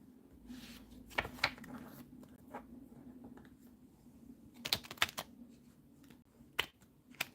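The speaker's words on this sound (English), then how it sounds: "How have I forgotten like how to shuffle cards?" Playing cards riffle and flick in a few quick, crisp bursts, with quiet gaps and soft rustling between them, close by.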